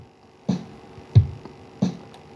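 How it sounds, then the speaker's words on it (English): A basic ambient-music drum loop of kick and snare alternating in quarter notes. Three soft, thumpy hits land at an even pace against a faint background. "we're going to go kick, snare, kick, snare"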